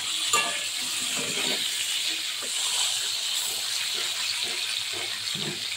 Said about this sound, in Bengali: এই যে পটলগুলোকে আমি লাল লাল করে ভেজে নিই।